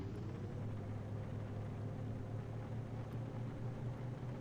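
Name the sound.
pickup truck engine driving in video game Farming Simulator 19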